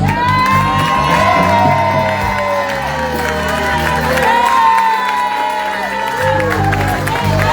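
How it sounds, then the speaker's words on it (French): A church congregation at a French-language celebration service shouts, whoops and cheers together, a loud, sustained crowd roar with a musical backing running underneath throughout. "maintenant tu vas pousser un bon cri"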